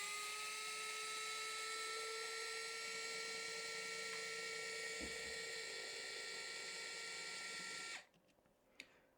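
An electric screwdriver drives a screw into 3D printed plastic with a steady high motor whine that sags slightly under load for about eight seconds, then cuts off, leaving a faint click.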